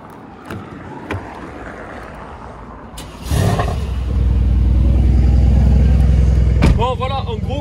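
A Mercedes C63S starting up and pulling away, a door thud followed by a deep engine rumble that swells and holds steady at close range, with voices talking over it.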